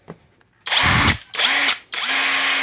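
Cordless impact driver powered by a DeWalt 20V lithium-ion battery, three loud close bursts of whirring, the first brief, with short pauses between and a rising then steady pitch.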